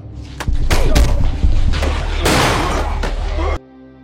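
A rapid burst of loud gunshots in a gangster action film, several sharp cracks in quick succession with echoing blasts, ending abruptly into quiet.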